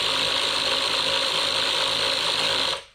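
Ratchet clicking steadily while tightening the rear headlamp adjuster on a W126 Mercedes-Benz, a dense, close, continuous run of fine pawl clicks for nearly three seconds before stopping abruptly.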